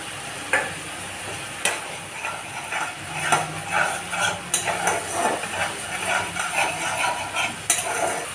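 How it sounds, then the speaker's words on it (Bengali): Ground coriander and cumin paste sizzles and fries in a kadai for a boyal fish curry, a steady hiss broken by sharp spoon scrapes and clanks against the pan, close and fairly loud. "মশলাটাকে ভালো করে কষিয়ে নিয়েছি কড়াইতে"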